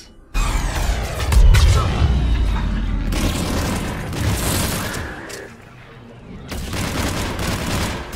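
Weapon fire in Mass Effect 3: heavy booming blasts and rapid gunfire volleys, loud and close, roll on for several seconds with a short lull before another burst.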